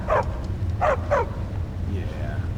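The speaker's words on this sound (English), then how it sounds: "look at the other big puppy" A big dog in a video game barks three times, loud and close, with two barks near together, over a steady low background hum.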